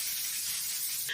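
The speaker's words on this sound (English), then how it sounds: "let me spray this" A short, close burst of aerosol spray, a steady broad hiss lasting about a second that cuts off sharply at the end.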